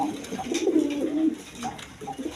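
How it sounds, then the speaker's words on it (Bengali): Large pigeons of a breeding pair coo in low, throaty phrases, one long rolling coo followed by softer, shorter ones, close by with faint background noise. "একদম বিগ সাইজের কবুতর।"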